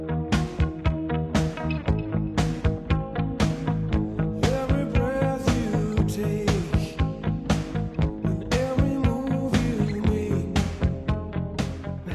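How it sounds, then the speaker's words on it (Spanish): The bass line of a song pulses in a steady, even rhythm within a full band mix with crisp drum hits, loud and continuous for the whole stretch. "interpreta la línea de bajo que en la canción original suena así de bien"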